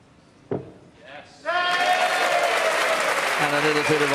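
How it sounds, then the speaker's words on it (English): Snooker arena crowd at the Welsh Open in Cardiff breaks into ironic applause after a click and a short murmur, the clapping swelling to a sustained, fairly loud patter with a voice talking over its end. "a little bit of ironic applause there from the crowd"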